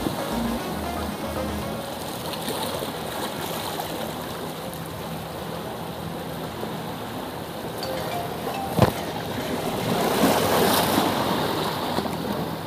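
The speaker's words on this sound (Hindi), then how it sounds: "और अब पानी का साउंड का मज़ा उठाइए" Steady ocean surf at Onyx beach near Aguada Fort, a continuous close wash of breaking waves that swells slightly louder toward the end, heard alone without talk.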